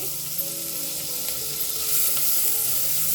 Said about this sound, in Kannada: ಇದ್ರ ಒಳಗಡೆ ಸಣ್ಣದಾಗಿ ಕಟ್ ಅಂತ ಒಂದು ಈರುಳ್ಳಿನ ಹಾಕೋತಾ ಇದ್ದೀನಿ